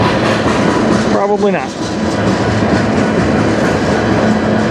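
A CN freight train rolls past in Sarnia, Ontario, a loud, continuous rumble and rattle of railcars close by throughout, with a brief spoken remark partway through.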